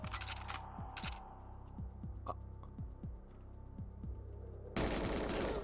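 Gunfire in the GoldenEye 007 video game: rapid repeated automatic shots in steady bursts with thudding impacts, loud and close, ending in a noisy rush, with no talking.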